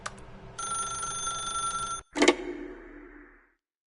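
A telephone rings in a video game, a steady electronic bell tone lasting about a second and a half, then a brief clatter as the receiver is picked up, fading to silence.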